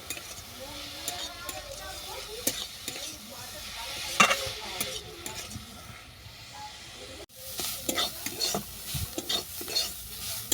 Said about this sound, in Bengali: এরপর নেড়ে ছেড়ে বাঁধাকপিটা আমি ভালো করে ভেজে নেব